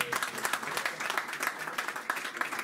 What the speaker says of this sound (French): Je vais vous demander tous d'applaudir Katib Yassine parce qu'on lui doit beaucoup.